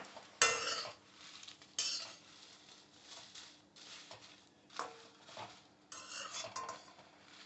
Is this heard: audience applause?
no